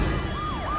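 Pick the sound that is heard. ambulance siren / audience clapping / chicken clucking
ambulance siren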